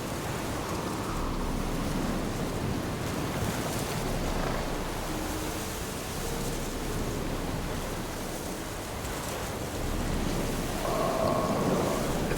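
Steady rain falls in Witcher 3, a dense, even wash of noise with a low rumble underneath, moderately loud and continuous, no voices.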